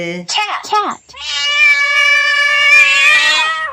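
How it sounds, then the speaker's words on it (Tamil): A cat lets out a long, loud, wailing meow, close and sustained, just after a brief burst of voice-like sound. "பூனை. எப்படி கத்து பாப்போமா?"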